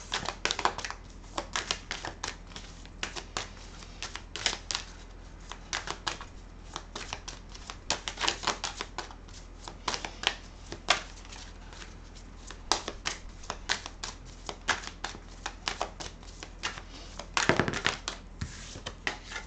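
Oracle cards being shuffled and drawn from a mirror-themed deck, a steady run of soft, close papery flicks and riffles in irregular bursts, with no talk.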